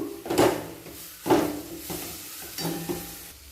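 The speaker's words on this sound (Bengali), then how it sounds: "এরপর মেয়োনিজ এইভাবে বিট গাজরের সঙ্গে মাখিয়ে নেব" Mayonnaise is worked into a grated beetroot and carrot filling in a pan, producing a few separate soft scraping, squelching strokes spaced about a second apart, close and moderately loud.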